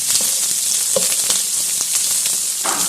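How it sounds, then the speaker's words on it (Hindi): Thickly cut onions sautéing in a pan for a spicy Szechuan green bean stir fry, a loud steady sizzle up close with repeated scraping stirs and light clicks. "इसको आपने हल्का सा सौते कर लेना है"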